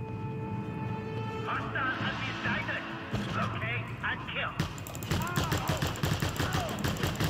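Rapid bursts of gunfire crackle through a Just Cause 2 gameplay session, growing denser and louder toward the end, while a player talks excitedly over the shooting and background game music.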